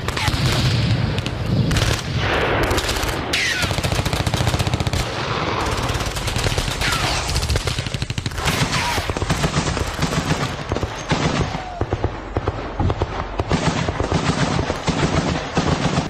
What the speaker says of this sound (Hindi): घर में छिपे रशियन सैनिकों पर हर तरफ से ताबड़तोड़ फायरिंग